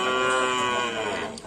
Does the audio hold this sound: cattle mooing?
yes